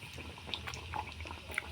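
Sattu-stuffed litti frying slowly in oil in a kadai over low heat, a faint, steady sizzle with soft bubbling pops and crackles.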